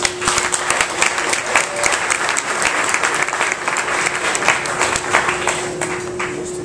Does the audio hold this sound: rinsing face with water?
no